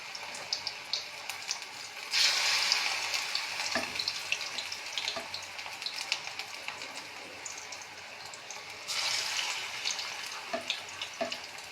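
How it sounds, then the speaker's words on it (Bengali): Mustard flower fritters, coated in a sweetened batter, fry in hot oil in a wok, giving a steady sizzle with short louder bursts and scattered crackles and taps throughout. "এগুলো এবার ভেজে নেব।"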